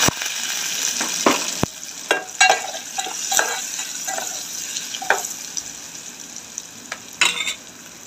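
Onion frying in hot oil in a home kitchen: a steady bright sizzle, broken by several sharp clinks and scrapes of stirring, with no voices.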